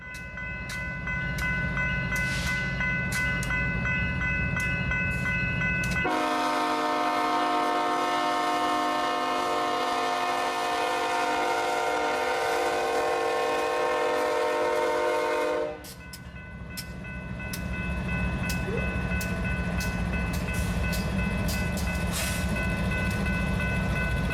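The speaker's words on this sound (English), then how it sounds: "A common ES44C4 is at the head of this mile-long train of auto racks" A mile-long BNSF freight train of auto racks rolls past with a common ES44C4 locomotive leading and a Dash 9 in Heritage 1 paint trailing, in Albuquerque, New Mexico. A heavy, steady rumble runs throughout, and a loud, sustained horn blast lasts about ten seconds midway.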